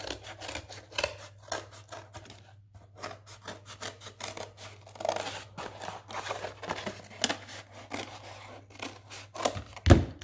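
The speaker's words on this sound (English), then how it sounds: "So I'm going to cut around this part first." Scissors cutting steadily around folded material, a dense run of rasping, crunching snips that goes on throughout, close and fairly loud against a low steady hum.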